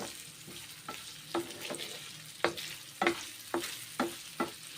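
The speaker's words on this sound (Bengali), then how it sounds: "নারকল ভাজা ভেজে নেব" Coconut pieces fry in mustard oil in a pan, a soft sizzle broken by a regular series of scraping, knocking stirs roughly every half second.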